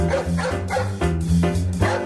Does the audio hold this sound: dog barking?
yes